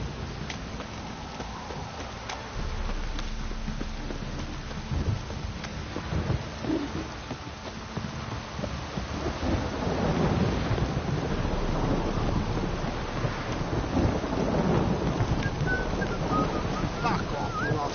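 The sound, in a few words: heavy rain downpour in video game The Witcher 3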